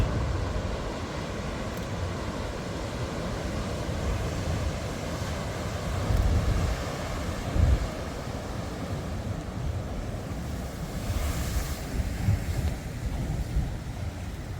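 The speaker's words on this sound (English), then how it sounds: "this is the full brunt of the Atlantic Ocean hitting Europe" Exceptionally big Atlantic Ocean waves pound the shore at Cascais and Carcavelos in Portugal, a continuous heavy roar of surf with wind, swelling in a few louder surges.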